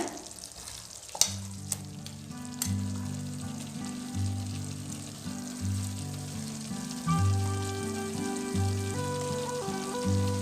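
Ground garlic paste for garlic gravy sizzles and crackles in a hot pan with a few stirring knocks, while steady background music plays.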